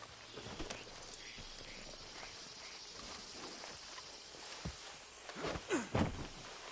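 Horse hooves clip-clopping at a walk in Red Dead Redemption 2, quiet and irregular over a low ambient bed, with a few louder thumps near the end.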